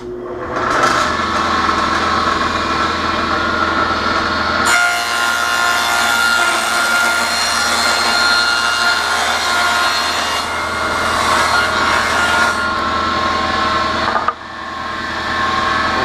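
Saw cutting plastic starter strip for beehive frames, a loud steady rasping stroke running nearly continuously with a brief pause partway through, no talking.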